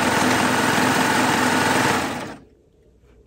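A Babylock Triumph serger runs loud and close at a constant high-speed whir while stitching and trimming T-shirt fabric for a quilt, then cuts off sharply, leaving a quiet room.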